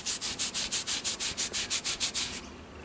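A file or Scotch-Brite is rubbed over metal on a tap wrench jig in a regular series of about a dozen quick, close, raspy strokes that stop abruptly, leaving quiet room tone.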